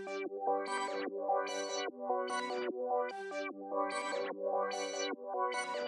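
Repeating organ-like synth chords from a Serum key organ preset out of the Shard Serum Bank, played as a steady pattern of short swelling stabs with a bright filtered attack, with no voices.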